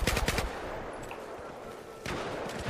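Gunfire in a multiplayer video game, a quick burst of rapid shots at the start, then a muffled steady background and another brief volley near the end, fairly faint.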